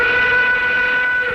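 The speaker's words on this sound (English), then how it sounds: "All aboard the night train now boarding." A steady train whistle opens a show, a sustained harmonic chord held for a moment at fairly loud level before tapering off, with no voices.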